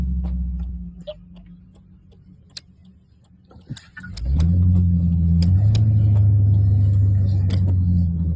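A truck engine idles quietly, then rumbles up loud and steady from about four seconds onward, close by, with small ticks and clicks on top and no talk.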